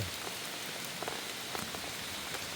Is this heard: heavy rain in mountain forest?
yes